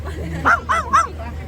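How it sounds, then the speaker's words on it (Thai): A dog barking three times in a quick row, sharp yipping barks nearby over a low steady hum, with faint background voices. "มาเห่ามาเห่า"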